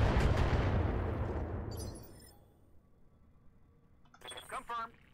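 A BATTLETECH mech launching direct-fire missiles: a loud burst of blasts that decays over a couple of seconds, then near quiet with brief clinking electronic chirps toward the end.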